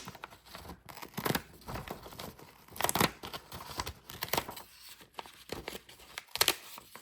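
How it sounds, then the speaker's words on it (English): Scissors snip through paper in a series of short, crisp cuts with brief pauses between, close and fairly quiet. "I'm going to cut these using these scissors here."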